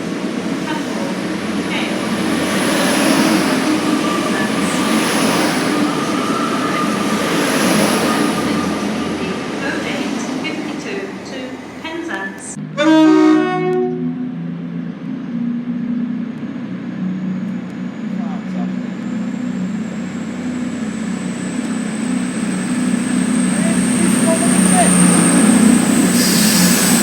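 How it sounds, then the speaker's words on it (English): CrossCountry Voyager train passing through Taunton station, a loud steady rumble of wheels and engine with a sharp burst of horn partway through, then fading into a lighter rolling hiss. "cross-country Voyager. The perfect two-tone."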